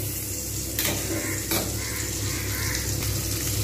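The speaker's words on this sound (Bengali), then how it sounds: "একটু হালকা করে লালচে করে ভেজে নেবো।" Onions and cauliflower frying in a pan for a cauliflower, potato and prawn dish, giving a steady close sizzle with a couple of brief louder bursts, no talking.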